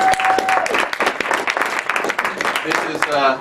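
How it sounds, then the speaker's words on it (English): An audience at a wealth seminar claps enthusiastically, a dense burst of applause that carries on steadily for a few seconds, with voices mixed in. "Let's give them a round of applause."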